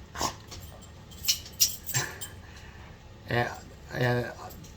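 Dogs whimper and whine close by in short, high-pitched bursts, with a few sharp yips scattered between them.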